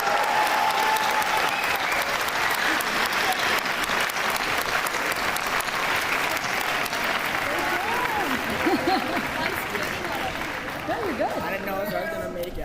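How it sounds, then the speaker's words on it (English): Sustained audience applause at a middle school eighth grade recognition ceremony, dense clapping filling the room for over ten seconds, with faint cheers and voices rising toward the end. "Let's give a round of applause."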